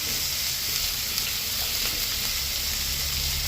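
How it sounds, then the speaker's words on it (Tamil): Chopped snake gourd sautéing with salt in a pan, a steady close hiss and sizzle with faint crackle, continuous and alone. "இப்போ நாங்கள் இப்படியே வதங்க விட்டுக்கிறோம்."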